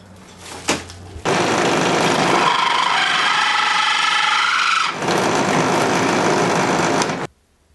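A router on a Kreg bench-top router table cuts chamfers into four bolt holes with a chamfer bit, giving a loud, steady, high-pitched whine that runs for about six seconds and then stops abruptly.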